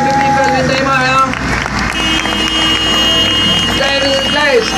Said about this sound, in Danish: Er I klar til at give manden, der kan køre alt på 4 hjul, et kæmpe bifald, mine damer og herrer?